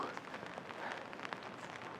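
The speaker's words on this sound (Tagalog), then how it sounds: "Shit, ang lakas talaga ng ulan." Heavy rain pouring down in a dense, steady hiss of drops, continuous and fairly close for a couple of seconds with no voices.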